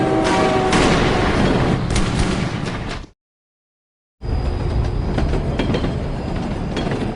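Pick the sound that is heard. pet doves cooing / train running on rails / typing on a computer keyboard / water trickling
train running on rails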